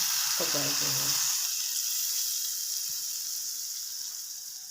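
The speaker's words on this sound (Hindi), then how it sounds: "इनको अच्छे तरीके से मिक्स कर देंगे और लगा देते हैं जी तड़का" Tempering spices for kadhi pakora crackle and sizzle in hot oil, a loud steady hiss that fades slowly, with a brief bit of talk at the start.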